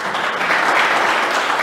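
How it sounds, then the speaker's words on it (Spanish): A church congregation claps loudly for God during a family-themed service, dense sustained applause from many people filling the space, close and unbroken with no talk over it. "Dale un aplauso a Dios por eso."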